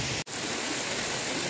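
Water pours steadily at a roadside waterfall in Makawanpur, a continuous broadband rush with a momentary dropout near the start, close and fairly loud, no voices.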